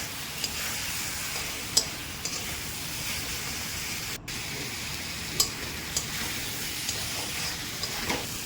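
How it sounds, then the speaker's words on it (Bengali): Fried potatoes stirred into a sizzling spice paste for a Bengali-style kalbos fish curry, with a steady loud hiss and frying crackle throughout and occasional spoon scrapes and taps against the pan, close up with no talking. "এবার এতে ভেজে রাখা আলুগুলোকে দিয়ে আবার নাড়তে থাকবো"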